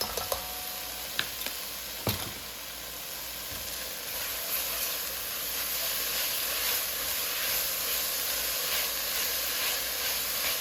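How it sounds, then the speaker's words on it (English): A tablespoon of garlic sautes in a pot, giving a steady close hiss and sizzle that runs unbroken, with a few sharp clicks near the start. "So we're just going to let that saute till it's soft and translucent"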